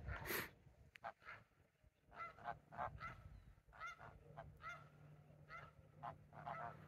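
Geese honk repeatedly in short nasal bursts, several birds calling back and forth at moderate distance over a quiet outdoor background.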